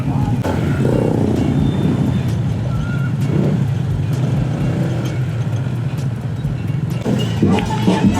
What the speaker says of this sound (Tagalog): Whew, traffic rush hour na guys